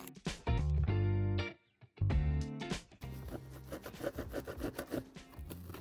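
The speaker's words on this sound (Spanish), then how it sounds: "Con la ayuda de una lija, remataremos el recorte" A brief burst of music gives way to steady, scratchy rasping as sandpaper is rubbed back and forth over the cut edge of a hard plastic bumper on an Opel Mokka X.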